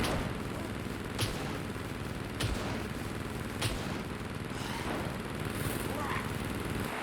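Base defense turret in the survival game SCUM firing at a deployed puppet: a few sharp, spaced gunshot cracks punch through a steady background rumble, with game ambience throughout.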